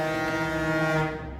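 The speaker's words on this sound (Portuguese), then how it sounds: "essa buzina eu não pude evitar, me desculpe" A deep, sustained horn blares outside for over a second in one steady tonal blast, then fades.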